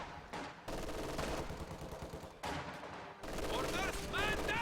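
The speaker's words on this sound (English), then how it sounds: "MG-42 firing on those combat engineers." An MG-42 machine gun fires in a video game in long rapid bursts, loud and close, broken by brief gaps, with other battle noise and speech mixed underneath.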